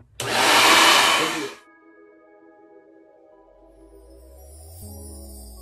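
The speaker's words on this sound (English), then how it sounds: "So now I'm going to take a blow dryer on cool." A blow dryer on its cool setting drying a lace front wig roars loudly for just over a second, then switches off, leaving faint humming tones and a low rumble.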